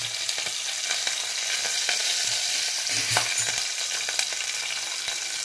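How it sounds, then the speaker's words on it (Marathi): Chillies and curry leaves hitting hot oil for tempering, with mustard and cumin seeds, for dal dhokli: a loud, dense crackle and hiss close by, dotted with sharp pops and a few stirring knocks, no talking. "हे सगळं आता मिक्स करून आपण तेलात टाकणार आहोत. दिसतं आहे तुम्हाला आता कसं तडकता येते."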